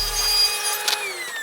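Power saw ripping down a sheet of plywood, a steady high whine with a brief cutting surge near the middle, close and loud with no talk.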